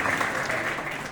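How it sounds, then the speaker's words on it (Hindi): Students applaud loudly and steadily to welcome a guest, a police station officer, at a government school assembly in Pratapgarh, the dense clapping filling the whole moment without a pause. "आप सभी को जोरदार ताली बजाकर आपका सबका स्वागत वंदन"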